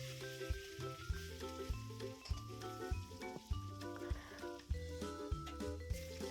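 Potato pieces sizzle in hot oil in a pan while being stirred, with a steady frying hiss and regular scraping knocks of the spatula, close and fairly loud over faint background music.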